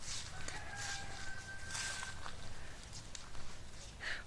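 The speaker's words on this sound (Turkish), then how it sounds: "Horoz da var tabii ki." A rooster crows at a distance at a mountain campsite in Çıralı, Antalya, a long drawn-out call over outdoor ambience with birdsong, with a short second call near the end.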